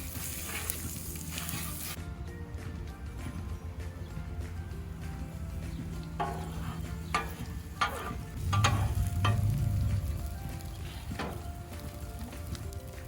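A veggie omelette sizzles and fries steadily in a pan, with a constant crackle broken by sharp clicks and scraping stirs, and a louder burst of sizzling around the middle.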